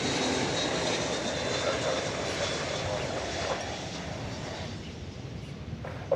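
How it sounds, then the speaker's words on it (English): An American Airlines Airbus A321 arrives at DFW Airport from Salt Lake City, and its jet engines give a continuous broad roar that holds steady throughout, heard from a distance with no talk. "Flight 2195 from Salt Lake City is about to touch down. American Airlines, Airbus A321."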